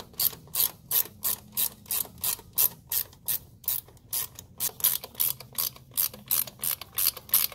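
A factory tool pressing a rear main seal into a Porsche 996 engine gives a steady, evenly spaced series of close mechanical ratchet clicks, about two per second, with no talking.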